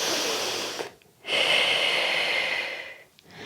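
Steady, close breathing during a gentle pillow-prop exercise routine: a long, airy exhale, a brief pause, then a full inhale and the start of another pause.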